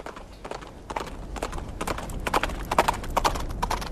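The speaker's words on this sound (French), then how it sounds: "Je nous ai préparé des chevaux." Horses trotting with clear, rhythmic hoof clip-clops that grow louder and denser, with a brief whinny mixed in.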